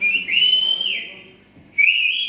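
Loud, near whistling at an outdoor community event in Zirkpur: a long sustained tone that slides and fades, a short pause, then another bright whistle rising in.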